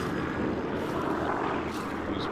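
Propeller airplanes droning overhead in a World War era shooter video game, a steady broadband engine roar that holds at moderate level throughout with no talk over it.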